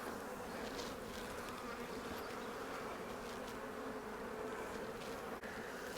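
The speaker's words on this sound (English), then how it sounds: "Bees are getting a little bit more testy now." Steady, dense buzzing of many increasingly agitated honey bees around an open hive close by, a continuous insect drone with no voices.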